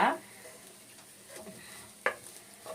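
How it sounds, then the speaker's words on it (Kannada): Eggs scrambled palya-style with onion, salt, turmeric and green chili, stirred in a pan: a faint, low sizzle with a sharp spatula scrape at the start and another clack about two seconds in. "ನಾನಿಲ್ಲಿ ಮೊಟ್ಟೆ ಫ್ರೈ ಮಾಡ್ತಾ ಇದ್ದೀನಿ ಮೊಟ್ಟೆ ಉರಿತಾ ಇದ್ದೀನಿ ಪಲ್ಯ ಥರ"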